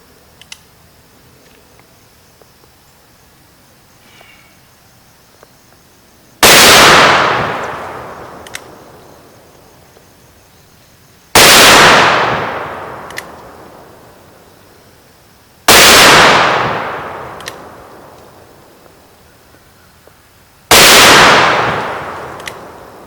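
Four loud, sharp gunshots from a Magnum Research BFR revolver firing .45-70 rounds, evenly spaced several seconds apart, each with a long decaying echo, with quiet pauses between them.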